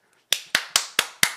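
Five sharp hand claps close by in an even, quick rhythm, each a crisp slap with a short tail, alone with no talking.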